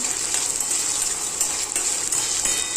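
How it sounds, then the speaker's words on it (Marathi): Chopped onion sizzles steadily in a hot pan, a constant close frying hiss with faint stirring scrapes and no voices. "कांदा चांगला ब्राऊन कलर येईपर्यंत फ्राय करायचा आहे."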